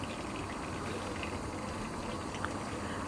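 Water boiling in a pot for a thin Bengali shing fish and small potato curry, a steady, fairly loud bubbling wash that runs without a break and has no talk over it.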